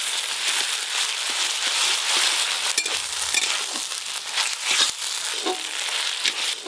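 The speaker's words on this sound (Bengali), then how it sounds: "পেঁয়াজ কুচিগুলো একটু হালকা করে ভাজা হয়ে গেছে, এবার আদা রসুন বাটা দিয়ে একসঙ্গে ভেজে নেব" Chopped onions frying with ginger-garlic paste in oil, a continuous close hiss of sizzling broken by crackles and spatula scrapes, with no talking over it.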